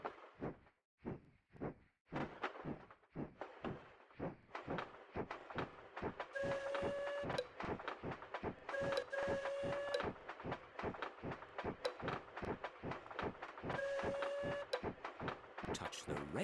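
Rhythmic clacking of a toy-like train in a Peppa Pig fun fair video game, running steadily, with repeated short whistle toots sounding at intervals over the rolling clatter.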